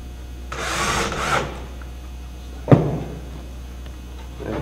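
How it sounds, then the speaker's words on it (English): A power driver runs a screw into a wall panel during panel hanging, with a short whirring burst early, a sharp knock midway and a faint quieter burst at the end over a steady hum. "Put in my middle screw."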